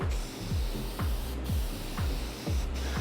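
Steady hissing of a spray can applying finish to wood, with a low rhythmic pulsing underneath, repeating about every half second, fairly close and continuous.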